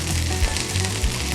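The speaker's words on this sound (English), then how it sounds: "it's just to cook those onions for 10 to 15 seconds" Onions sizzle and fry in a pan, a steady close-up crackle broken by a couple of brief stirring bumps, with nobody speaking.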